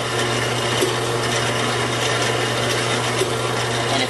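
An oil-extraction pump switched on runs with a steady, continuous motor hum and a broadband whir at close range, unchanging for the whole stretch with no voices.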